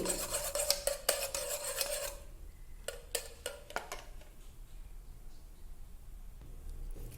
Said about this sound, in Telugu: ఇలా 2 నిమిషాలు ఎగ్ని బాగా బీట్ చేసుకోండి